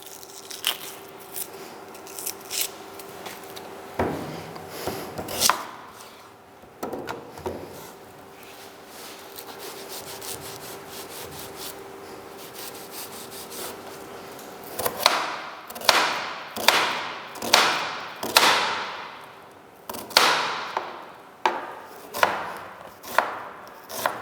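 An onion being chopped with a knife on a cutting board for prawn fried rice: steady, crisp knife strikes, sparse at first and then a fast run of sharp, evenly spaced chops close by, with no talking.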